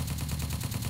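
Rapid automatic gunfire in the online survival video game Apocalypse Rising 2, a steady burst of fast, evenly spaced shots that runs without a break through the whole second.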